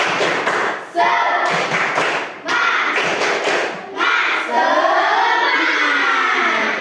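Children in a classroom give a rhythmic spirit clap, loud group claps and thumps in short repeated bursts with chanting voices, ending in a longer stretch of mixed young voices.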